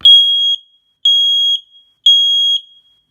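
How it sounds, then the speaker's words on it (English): A household smoke alarm sounds its test signal, giving three loud, piercing electronic beeps of equal length spaced about a second apart, close to the microphone, with nothing else heard. "So here's the fire alarm"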